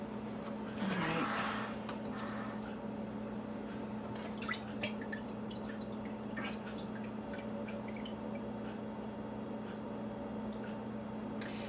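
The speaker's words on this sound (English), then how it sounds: "it's just about done dripping" Chicken bone broth drips from a strainer in a kitchen, producing soft, scattered small drips and splashes over a steady low background hum, faint and close, with a brief louder rustle near the start.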